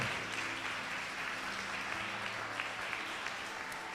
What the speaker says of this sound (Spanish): Alguien dele aplausos al Señor